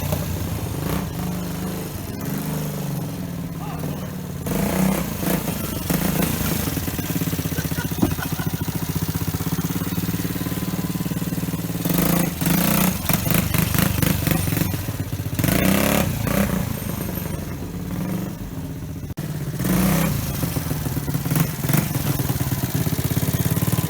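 A Honda ATC 70 three-wheeler engine runs steadily and loudly up close, a buzzy small-engine drone that rises and falls slightly with throttle changes for the whole stretch.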